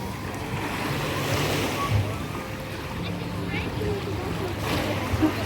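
Black Sea waves wash steadily onto a beach in Odesa between Arkadia and the 10th Fontan station, with wind rumbling on the microphone and a murmur of voices in the background.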